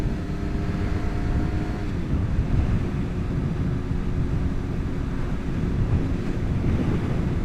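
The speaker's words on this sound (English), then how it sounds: "Look, we got a little crosswind out here." Crosswind buffets a rider on a 2025 Suzuki GSX-R750 along country roads, producing a steady, loud roar of wind noise over a low engine and road rumble that continues without a break and without talk.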